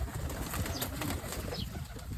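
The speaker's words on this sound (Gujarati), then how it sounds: "જો બધા કબૂતરા કેટલા બધા છે ને આમથી આમ ભાગે છે" Pigeons in a loft give soft, close rustling and faint cooing with a little wing movement, fairly quiet and brief.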